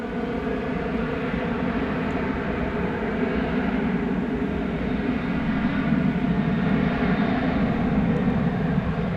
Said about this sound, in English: Qatar 777 is now getting ready to rise up.